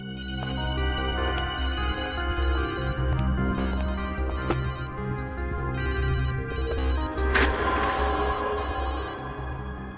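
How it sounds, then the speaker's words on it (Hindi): A mobile phone rings from inside a bag in a lab, playing a repeating melodic ringtone at a moderate, slightly muffled level with no talk over it. "फोन तो इस बैग में से बज रहा है।"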